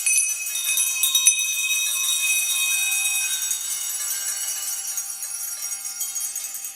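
At a winter solstice ceremony, many small bells ring together in a bright shimmering wash, with a few sharper strikes early on, then sustained tinkling that slowly thins out, and no talking.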